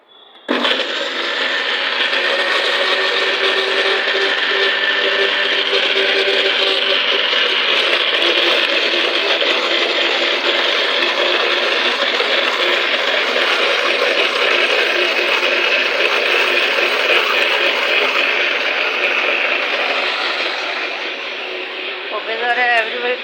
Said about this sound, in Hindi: तो इसको मैं थोड़ा सा ब्लेंड कर लूँगी।